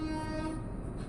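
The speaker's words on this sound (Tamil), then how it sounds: "ட்ரெயின் இப்போ தான் சத்தம் கேட்குது." A train horn sounds near a railway level crossing with a long steady tone over a rumbling passing train, loud and close.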